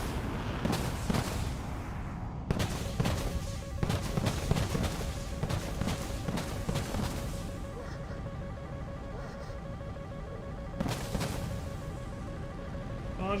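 A missile dropping from an F-18 in War Thunder sets off booming, rumbling blasts, with a dense burst of sharp cracks early on and another heavy impact near the end, no voices.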